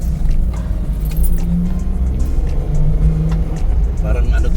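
A Suzuki DA17V turbo automatic van drives along with a replaced semi-sport muffler, giving a steady, deep exhaust rumble mixed with road noise from inside the cabin.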